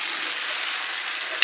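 Food being stirred in a pan while a mixture with spices cooks and has started to catch on the bottom; a steady, close broadband sizzle with scraping texture runs throughout without pause.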